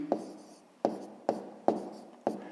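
Numbers are handwritten with a pen or pencil, five quick scratching strokes in an uneven rhythm, close and distinct, with no voice.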